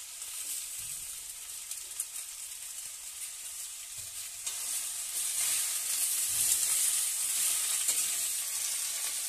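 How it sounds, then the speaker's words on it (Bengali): Malabar spinach leaves sizzling and being stirred in a pan with fish head for a Bengali ghonto, a continuous close frying hiss with soft scraping that swells louder midway. "পুঁই শাকগুলো দিয়ে দিচ্ছি। পুঁই শাকগুলো দেওয়া হয়ে গেলে এটা নেড়ে"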